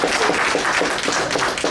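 An audience applauds after a talk, a brief dense wash of clapping hands that stays loud and even throughout.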